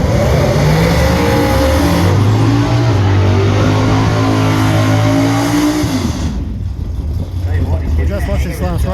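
Cars drag racing side by side on a 1/8 mile radial track rev hard and accelerate away, loud rising engine roars that build and shift pitch, then fade into crowd and track noise.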